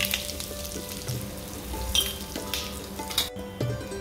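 Asafoetida tempering with mustard seeds in hot oil, a close, fairly quiet sizzle broken by irregular crackles and pops, heard alone without any talk.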